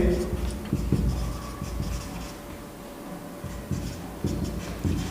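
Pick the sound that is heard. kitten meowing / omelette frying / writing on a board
writing on a board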